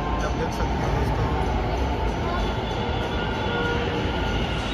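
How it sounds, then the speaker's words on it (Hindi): A metro train pulls into a crowded station in Ahmedabad with a steady loud rumble and faint wheel squeal, while people talk nearby. "तो गाइस फाइनली आ गई हमारी मेट्रो"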